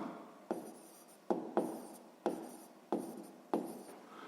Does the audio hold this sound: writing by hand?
yes